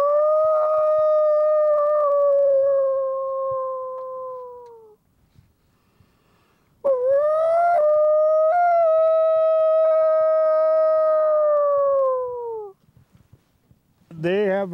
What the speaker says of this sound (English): They have heard the wolves.